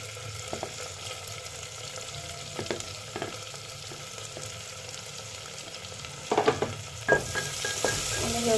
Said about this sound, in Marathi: आणि व्यवस्थित कांद्याला थोडंसं परतून घेऊ।